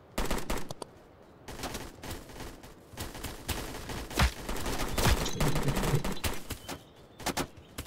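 Dense, loud gunfire from the Roblox game Blackhawk Rescue Mission 5, with rapid automatic bursts and single shots overlapping almost continuously in a close-range firefight.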